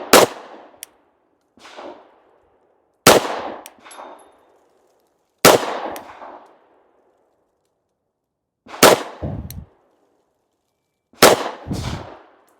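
Five Glock pistol shots ring out one by one at irregular spacing, each a sharp loud crack with a short ringing tail, separated by quiet pauses.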